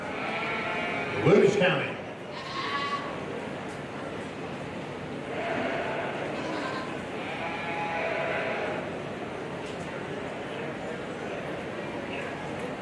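Goats bleat several times at a livestock show, clear and fairly close, while an announcer speaks over them.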